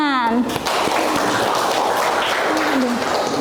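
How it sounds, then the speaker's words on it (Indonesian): Classroom applause from students, a dense steady wash of many hands clapping close by, with a teacher's voice briefly heard at the start and end. "Tepuk tangan."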